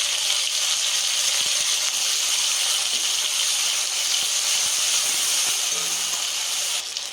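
Tomatoes sizzling in hot oil with ginger paste, cumin and coriander for a traditional Bengali vegetable and fish-head ghonto, a steady bright hiss that holds evenly and drops slightly at the end.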